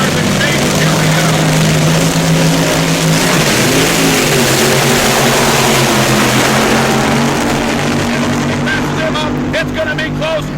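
Fuel dragsters with Norm Weekly at the wheel of one roar down a drag strip in a continuous loud engine blast, with a steady heavy drone and shifting pitch throughout.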